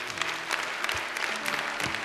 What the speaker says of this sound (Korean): 자, 다시 한번 격려의 박수 주시기 바랍니다.